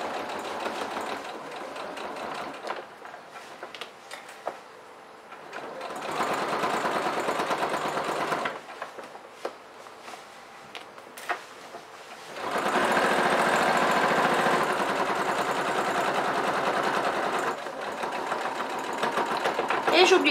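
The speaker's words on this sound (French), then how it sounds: "je vais faire une couture au point droit, ici à 5 mm du bord du tissu, jusqu'au bout. Donc c'est parti pour la couture." A sewing machine runs a straight stitch about 5 mm from the fabric edge on a Barbie-style shoulder bag, buzzing steadily and loudly in long bursts with pauses between, close up.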